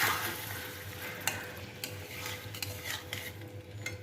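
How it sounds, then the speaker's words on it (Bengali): Garam masala being stirred into a giant prawn curry in a pan: quiet, soft scraping strokes and light utensil taps over a faint simmering sizzle. "তার আগে আমি সামান্য একটু গরম মশলা গুঁড়ো ছড়িয়ে দিয়ে মিশিয়ে নিচ্ছি।"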